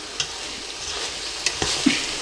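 Food sizzles and fries in a pot as a wooden spoon stirs it for a Bauerntopf, a steady crackling hiss broken by a few sharp scraping knocks of the spoon, close and fairly loud.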